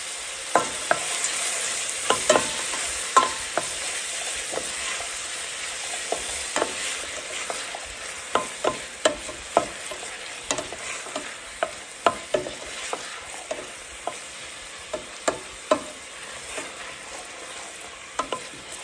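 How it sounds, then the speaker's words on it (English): Onions, garlic and whole allspice sizzle steadily in a pan, with a spoon repeatedly scraping and stirring through the frying, close and alone. "I'm just sauteing my onions and garlic and allspice just to release the flavors."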